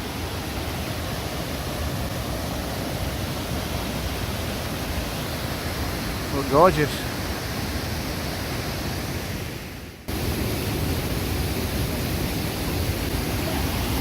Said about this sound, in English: Listening to the torrent of the waterfall cascading down the limestone rocks.